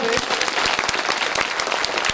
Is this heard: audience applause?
yes